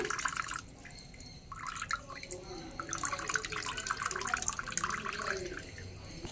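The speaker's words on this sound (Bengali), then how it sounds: "এইবার আস্তে করে জলটাকে একটু ভালো করে ঝরিয়ে নিতে হবে" Water drips and trickles as it drains from chhena, fresh cheese curd for rasgulla, in a kitchen; a continuous patter of splashing and dripping with uneven surges, close by.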